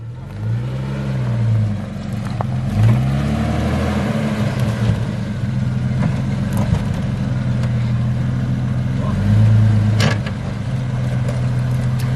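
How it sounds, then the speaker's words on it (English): A stock Jeep XJ engine revs and strains while rock crawling on a dirt and rock line, rising and falling in pitch through several throttle bursts over a steady close engine drone. "This is what happens when a stock XJ goes rock crawling."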